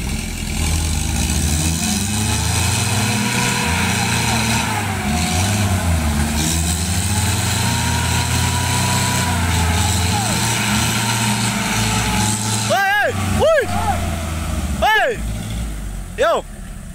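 A Toyota Hilux pickup loaded with oil palm fruit, stuck on a slippery road, its engine droning and revving continuously up close, with voices and several short sharp bursts near the end.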